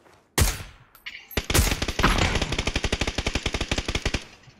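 Rapid automatic gunfire in the battle royale video game PUBG, a short burst followed by a long, steady string of loud evenly spaced shots, with no talk over it.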